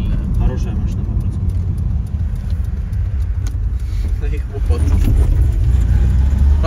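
A powerful car drives with its engine running in a steady, loud rumble. Near the end it surges louder, and voices talk over the engine noise inside the cabin.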